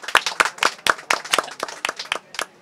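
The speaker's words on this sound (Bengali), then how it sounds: "একটা হাততালি হয়ে যাক।" A round of clapping from a small group at a book fair, sharp close hand claps in an uneven quick rhythm lasting a few seconds, with no speech over it.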